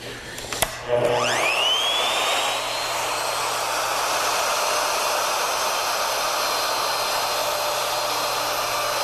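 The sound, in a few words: wood router cutting a mortise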